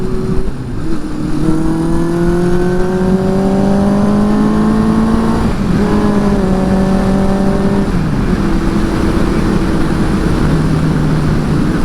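A motorcycle engine under way, its tone climbing steadily with harmonic whine, then breaking and climbing again as the clutch slips, loud and continuous with wind noise behind it.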